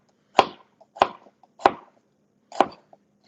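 A knife chops through onions on a board, four distinct, evenly spaced thuds landing close and clear, with silence between them and no voices.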